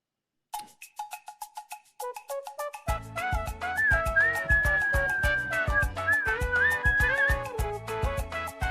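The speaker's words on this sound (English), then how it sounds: "I should know better than to whistle or sing on stream" A person whistles a wavering melody over music and bright chime-like tones during a quiz-style live show; the whistled line sits mid-mix for several seconds, fairly loud.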